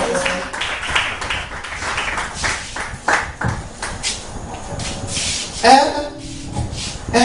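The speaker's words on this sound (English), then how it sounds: "Please clap for this God in this area." A congregation claps at a church prayer meeting, sharp hand claps in uneven bursts mixed with shuffling and a voice talking throughout, louder at moments and fading in between.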